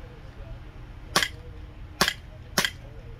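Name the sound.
small BB pistol shooting Iron Sight Bio BBs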